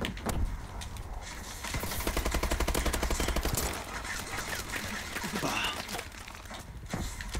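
Heavy automatic gunfire from dual heavy guns in the Call of Duty video game, a sustained rapid burst of shots in the middle stretch, with scattered game sounds before and after.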